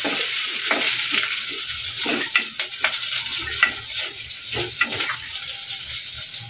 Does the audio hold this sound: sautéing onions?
yes